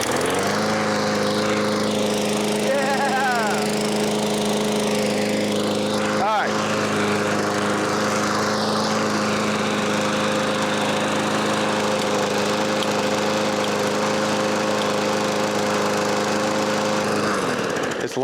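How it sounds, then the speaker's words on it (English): A riding lawn mower's engine runs loud and close at a steady idle drone for about seventeen seconds, then cuts out near the end. "Well, the mower's running now."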